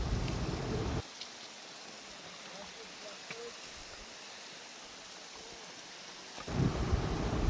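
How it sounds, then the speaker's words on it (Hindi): Strong cold wind blowing across a steep mountain trail near a glacier on the climb to Hemkund Sahib, with loud buffeting gusts at the start and end and a thinner, steady hiss between them. "हवा चल रही है बहुत तेज़,"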